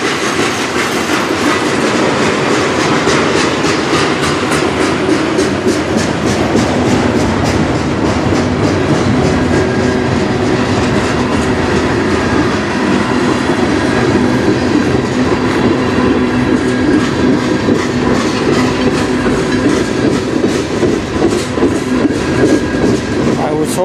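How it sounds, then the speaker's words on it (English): A short CN freight train with four locomotives rolls steadily past close by in Sarnia, Ontario, wheels clattering rhythmically over rail joints with a constant loud rumble throughout. "Short train for having 4 locomotives."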